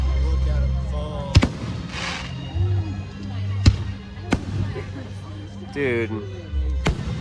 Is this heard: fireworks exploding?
yes